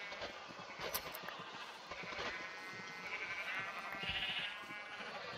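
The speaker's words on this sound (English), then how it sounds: "Those three sheep that are currently in there are just leftovers that I hadn't relocated somewhere else." Sheep in the Minecraft video game bleat softly in a pen, with a few quiet, wavering calls over a low, steady background. No one speaks.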